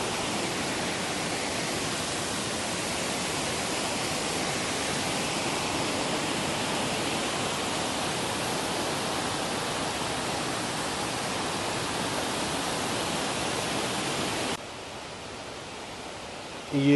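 Artificial waterfalls in a park in Leiria, Portugal: steady broadband rush of falling water fills the scene loudly and evenly, dropping slightly in level near the end.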